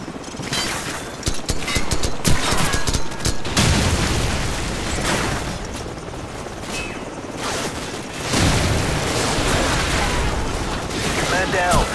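Gunfire in the video game Call of Duty Modern Warfare, loud bursts of automatic fire and booming shots rattling over a dense battle din, with voices calling out amid the shooting.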